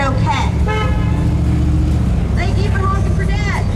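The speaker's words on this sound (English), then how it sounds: "Thank you for honking for dad." Car horns honk repeatedly at a roadside rally beside steady traffic rumble, loud and close, with people shouting and cheering over them.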